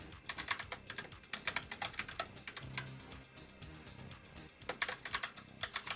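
Rapid clacking keystrokes on a loud computer keyboard, typed in steady bursts with brief pauses, close and clear with no voices.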